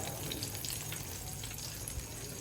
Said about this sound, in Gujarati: એટલે ગડબડ કર્યા કરતાં ફટાફટી તળી લઉં.